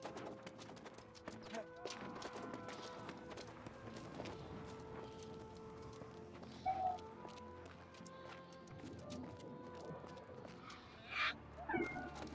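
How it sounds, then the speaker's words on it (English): A pet cat meows repeatedly indoors, several loud, drawn-out cries rising over a continuous layer of game music and ambient effects. "Maybe you can hear my cat meowing loudly at me, demanding a lot of attention."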